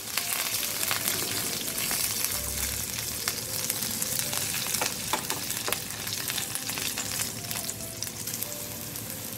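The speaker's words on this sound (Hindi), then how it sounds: "ये सब डाल के अच्छे से इसको मिक्स कर देते हैं" Garlic and green chili sizzle steadily in a hot pan, a dense continuous frying hiss with occasional scrapes and clicks of stirring, close and fairly loud with no talking.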